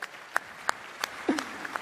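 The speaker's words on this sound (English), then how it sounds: "give yourselves a round of applause for waking up early" Sparse applause from a conference audience at a Bitcoin event in Amsterdam, a handful of distinct claps spaced out over a couple of seconds with a brief voice mixed in.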